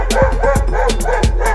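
Cartoon dogs bark in a quick series of four or five yapping woofs over a steady low hum, loud and close.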